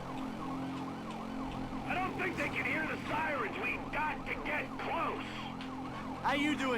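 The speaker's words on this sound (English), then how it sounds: "I don't think they can hear the sirens." Police sirens in Grand Theft Auto 5, several wailing sirens overlapping in rising and falling sweeps throughout, moderately quiet in the mix beneath game engine noise, with faint voices.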